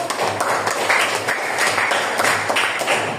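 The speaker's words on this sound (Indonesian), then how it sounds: "Tepuk tangan untuk kelompok hadir" A classroom of students claps for a student group in a lively, rapid, continuous burst, many hands at once, fairly loud and close for a few seconds.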